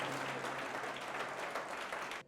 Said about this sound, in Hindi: जोर से ताली बजाएंगे यीशु मसीह के लिए